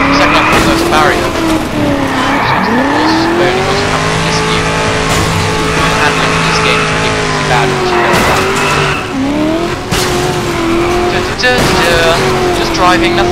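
A car in the video game Just Cause 2 drives hard, its engine roaring loud and steady with shifting revs and bursts of tire squeal, under a player's voice.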